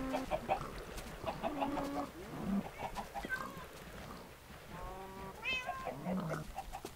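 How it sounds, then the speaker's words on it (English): Black cats meowing in the Minecraft video game, several short meows scattered among clucking chickens and other in-game animal sounds, faint under a busy game soundscape. "there's one of the cats. They got a bunch of black cats for this."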